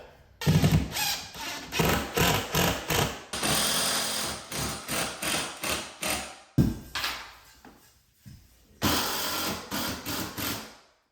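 A power driver sinks a screw into an IKEA kitchen cabinet in a series of short, sharp mechanical bursts with brief pauses between them, fairly close and clear with no talking.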